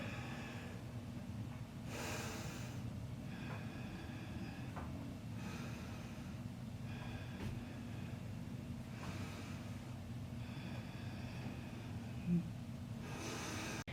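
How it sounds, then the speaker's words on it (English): Deep breathing during a full-body yoga workout: slow, steady inhales and exhales repeating every couple of seconds, close and soft, with no talking. "Take 3 deep breaths here."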